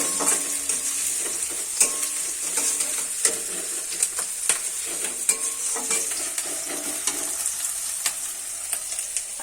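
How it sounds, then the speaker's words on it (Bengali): Sliced onion sizzles steadily in hot oil in a pan while being stirred, as a first step toward flattened-rice pulao, with scattered scraping and clinking taps of the spoon over a continuous bright fry and no talking. "এর মধ্যে পেঁয়াজটা দিয়ে দিলাম। পেঁয়াজটা কিন্তু বেশি লাল করবো না, জাস্ট এপিট ওপিট একটু নাড়া দিয়ে ভেজে নিয়ে"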